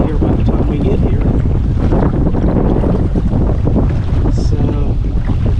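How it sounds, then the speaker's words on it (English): Steady wind buffeting the microphone over the Ohio River, with a constant rushing roar and faint lapping waves. "So, the river's been really windy and wavy today."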